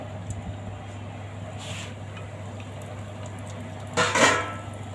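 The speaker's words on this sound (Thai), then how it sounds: "ตอนนี้ก็น้ำมันร้อนแล้วก็ ปลาเค็มที่เราชุบแป้งมาเมื่อกี้นี่เราไปทอดนะทุกคน ทอดเลย" Flour-coated salted fish goes into hot oil, a low frying hiss under a few cookware clinks, then a louder burst of sizzle and clatter near the end, close and without speech.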